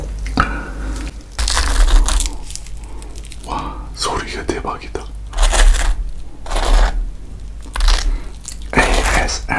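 Fried shrimp is bitten and chewed close to the microphone in loud, crisp, repeated crunches with brief pauses between bites.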